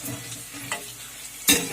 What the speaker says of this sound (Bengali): এখন আমি লো আঁচে পকোড়াগুলো এক সাইড ভাজা হতে দিচ্ছি